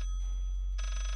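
A telephone rings inside the horror game Layers of Fear, a single shrill electronic trill that stands alone and close over a low steady hum.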